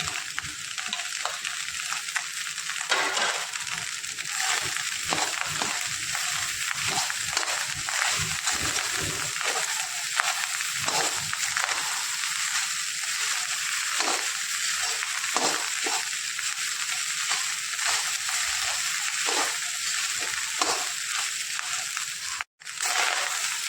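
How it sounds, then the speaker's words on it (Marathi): Cooked rice with tomato for masala rice is fried and turned in a pan, giving a steady sizzling hiss broken by repeated scraping, crunching strokes of the spoon, close and fairly loud. "हा भात आपण चांगला परतून घेऊया."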